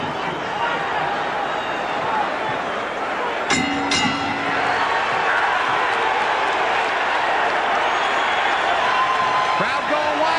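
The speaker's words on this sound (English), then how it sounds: "Crowd going wild" An arena crowd at the Roy Jones vs Vinny Paziensa boxing match roars and applauds continuously, loud and dense, with a ringside commentator talking over the noise and a bell-like clang briefly cutting through.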